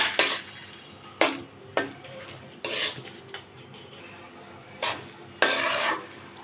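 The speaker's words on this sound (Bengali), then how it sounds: "নাড়াচাড়া করতেছি, নাড়াচাড়া করতে করতে শুকিয়ে যাবে।" A spoon scrapes and stirs a coconut mixture in a pan in about seven separate bursts of metallic clinks and scrapes. Faint sizzling sits under the strokes.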